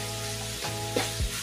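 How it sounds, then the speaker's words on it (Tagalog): Ground pork sizzles loudly in a hot pan, a constant crackling fry broken by a couple of brief stirring scrapes. "Kailangan maigisa lang natin maigi yung ating giniling"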